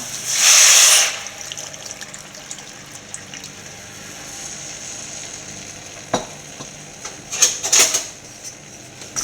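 Water pours into a hot sambar pot, setting off a short loud hissing burst at the start, followed by a quieter simmer and a few soft clinks and stirring sounds near the end.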